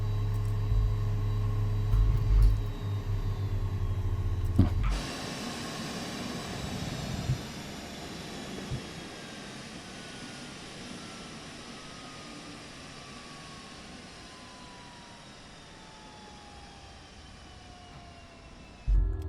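Learjet 35A jet engines in MSFS 2024 spooling down after the thrust levers are cut, a steady whine sliding slowly lower in pitch while a broad rushing hiss fades over many seconds, with no talk.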